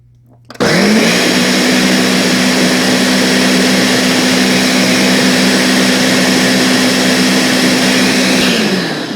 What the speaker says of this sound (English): you're gonna pour it in the blender while everything is mixing